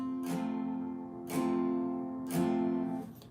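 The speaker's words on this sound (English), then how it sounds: "That's how an F sounds like" An F barre chord is strummed three times on guitar, each strum ringing out and overlapping the last, fairly quiet and close.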